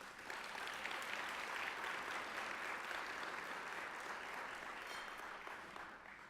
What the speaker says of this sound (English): Please give Sham another round of applause.